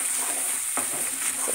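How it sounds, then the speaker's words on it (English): Crushed pistachio nuts are tipped into a pan of sizzling zucchini halwa and stirred in, giving a steady close frying hiss with soft scraping stir strokes and a brief rattle as the nuts drop. "So now I'm going to add my crushed pistachio nuts."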